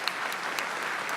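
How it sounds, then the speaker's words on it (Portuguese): An audience at a lecture event applauds the speakers, a continuous, even roar of clapping with a few sharper individual claps standing out. "Peço uma salva de palmas aos nossos palestrantes."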